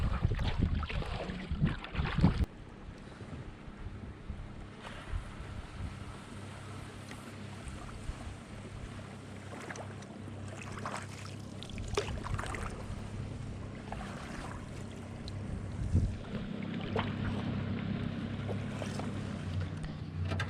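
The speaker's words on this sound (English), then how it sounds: "there's definitely a little more headwind coming straight back at us" Wind and water noise on a lake during a backcountry canoe trip in Prince Albert National Park, a steady low rumble of headwind buffeting the microphone with occasional louder gusts and faint paddle splashes, with no talking.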